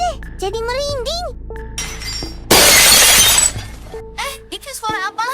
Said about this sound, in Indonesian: Suara piring sama gelas jatuh.